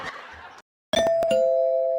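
A doorbell rings with a bright ding-dong chime that sustains and rings on after a brief silence, loud and close, following a moment of other noise.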